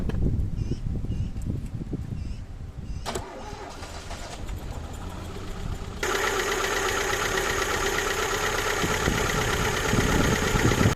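A ZAZ Tavria car engine awaiting a full rebuild cranks and starts, then settles into a steady running drone that grows louder and brighter halfway through, with no voices.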